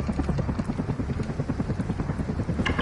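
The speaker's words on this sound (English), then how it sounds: "that was a chopper in the air" Helicopter flying overhead in the Call of Duty Modern Warfare campaign, a loud, steady rapid rotor chop that pulses evenly throughout and stays close, with no talk over it.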